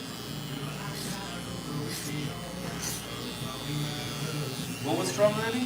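An electric hair trimmer buzzes during a fade haircut, a steady low motor hum running under continuous conversation from nearby voices.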